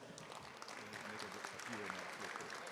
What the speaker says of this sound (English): Let's give it a big applause.